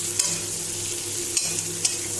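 A fish head with coriander powder and dried chilli spice sizzles in hot oil in a wok, a steady close frying hiss broken by a few sharp clinks of the stirring utensil.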